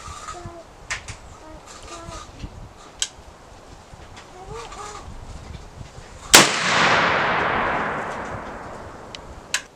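A muzzleloader rifle fires a 60-grain charge of 3F black powder at a 25-yard target outdoors: one sharp, loud report with a long decaying rumble, after quiet ambience with birds and a rooster.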